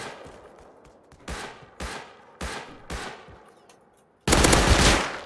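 Rust video game gunfire: a run of four sharp shots at steady intervals with decaying tails, then a loud sustained burst of rapid fire near the end, close and prominent over a quiet background.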